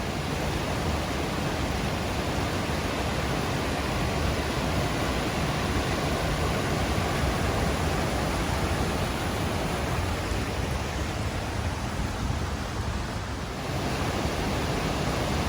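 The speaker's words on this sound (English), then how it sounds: "getting around to straight in front of the waterfall, and then the powerful river in the foreground" High Force waterfall thunders with a powerful river rushing in the foreground, a loud, unbroken wash of roaring water with no voices.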